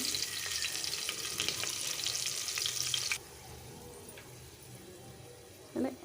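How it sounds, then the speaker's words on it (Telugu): Garlic, curry leaves and green chillies fry in oil for a pongal tempering, a loud bright sizzle that abruptly drops to a quieter simmer halfway, with a brief clatter near the end. "వెల్లుల్లిపాయ ముక్కలు కరివేపాకు పచ్చిమిర్చి ముక్కలు వేసుకున్నాను"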